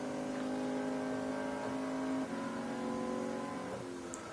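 A Mercedes VGT race car engine in a racing video game holds a high, steady droning whine, dropping pitch at a gear change halfway through before climbing again.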